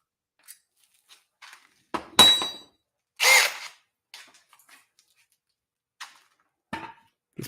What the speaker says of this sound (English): you want me to bury the auger here in between these holes